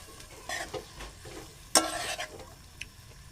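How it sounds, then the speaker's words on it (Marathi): A spoon stirs a raw papaya vegetable dish in a frying pan, with soft sizzling throughout and scraping strokes, one sharp metallic clink near the middle, close and fairly quiet, with no voices. "भाजी मस्तपैकी आपण ढवळून घेणार आहोत आता."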